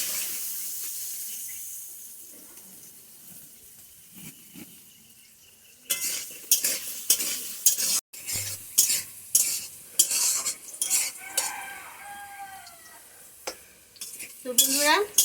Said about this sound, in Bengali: এবার এটা আমি ভালো করে লাল লাল করে ভেজে নিই